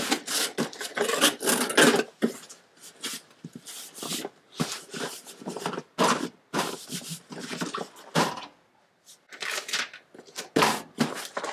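Sewing machine run by Tina in a small boxing-goods studio, whirring in irregular bursts with short pauses between stitching runs, close and moderately loud, no talk over it.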